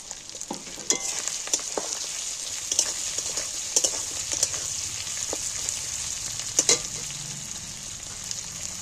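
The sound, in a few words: chopped tomatoes frying in pan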